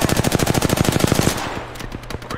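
Rapid automatic gunfire rattles loudly in a shooter video game, a fast even burst of about twenty shots lasting over a second, then trailing off into sparser, softer shots.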